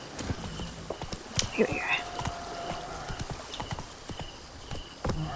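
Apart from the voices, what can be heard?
horse galloping in video game Witcher 3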